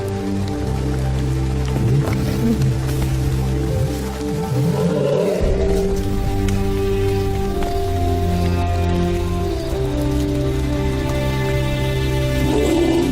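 Rain falls steadily on lions in the wild, a continuous wash of drops under low growls and rumbling roars from the big cats, close and sustained across the whole stretch.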